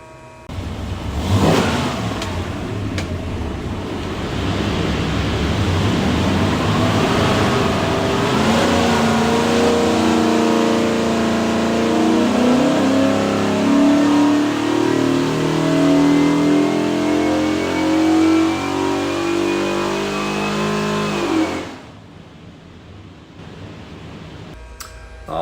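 A 410 hp 347 cubic inch Ford stroker V8 from a '66 Mustang pulls a loud run on a dyno, its rising engine note climbing steadily for about twenty seconds before cutting off abruptly.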